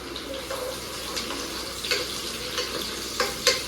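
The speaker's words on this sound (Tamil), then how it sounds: "அதை வந்து வெந்தயம் போட்டு வெங்காயம் பச்சை மிளகா கருவேப்பிலை சேர்த்துட்டு வதக்கு வதக்கு வதக்கு" Onions, green chillies, fenugreek seeds and curry leaves sautéing in hot oil for a fish curry, giving a steady close sizzle with occasional scraping stirs, no talking.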